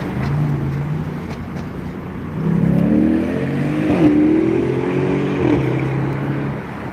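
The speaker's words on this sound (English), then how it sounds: "Listen to that car engine." Near the Brooklyn Bridge, a car engine accelerates with a rising, then falling whine over steady city background noise, fairly close and moderately loud.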